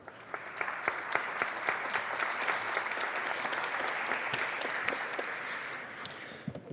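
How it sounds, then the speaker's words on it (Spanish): Audience applause at a Peruvian congressional forum on constitution, economy and environment, steady dense clapping sustained for several seconds at moderate distance, no voices. "Un fuerte aplauso, por favor"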